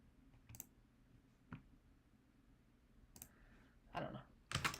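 Computer mouse clicks while someone edits app text style settings, a few sparse sharp clicks spaced out at first, then a denser burst of louder clicks near the end, close over a quiet room hum, with no talking.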